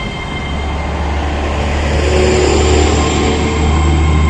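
Onboard a train heading to Weston-super-Mare in western England, a steady loud rumble of wheels and motors fills the cabin, a constant low drone with a faint tonal whine, and no voices.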